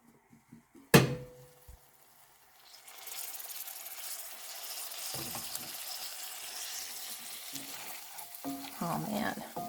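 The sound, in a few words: caramelized onions and mushrooms frying in a pan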